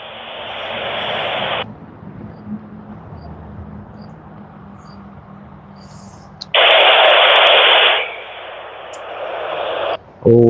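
SO-50 FM amateur satellite downlink received on a handheld radio, with loud bursts of hissing static that switch on and off abruptly and a faint tone and noise floor between bursts.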